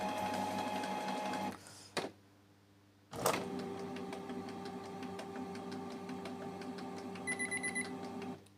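A Canon Pixma G4110 inkjet printer works through a deep cleaning cycle, humming and whirring with motor tones, a sharp stop and a clunk, then a long steady mechanical drone with a few quick beeps near the end.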